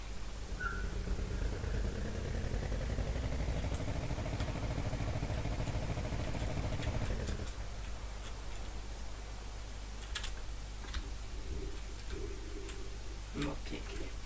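An Ursus C-330 tractor engine idles in a farming video game, a steady low rumble for about seven seconds that then drops to a quieter hum with scattered clicks, while faint talk continues.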